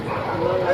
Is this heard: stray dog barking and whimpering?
yes